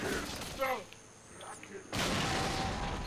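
A sudden loud explosion erupts in Halo 3: ODST Firefight on the Windward map, a sharp blast after a quieter stretch of distant gunfire, with the roar sustained to the end.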